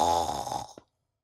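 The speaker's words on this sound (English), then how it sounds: "Soon the whole hut shook with the sound of her horrible snoring." A single cartoonish snore, used as a sound effect in a read-aloud story about a witch: one long, buzzy, rasping inhale that fades out with a small snort, followed by silence.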